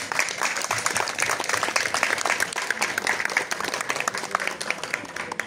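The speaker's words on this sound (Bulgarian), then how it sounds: "Моля аплодисменти за тези хора." A crowd at the opening of an authentic folklore festival gives sustained applause to the people who made the venue possible, a continuous spread of many hands clapping at moderate distance.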